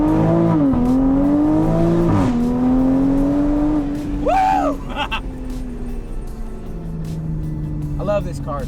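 A Toyota Supra engine hums and shifts through rising and falling revs while driving, loud and close inside the car, with a person talking over it.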